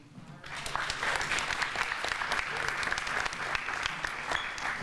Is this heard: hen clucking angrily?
no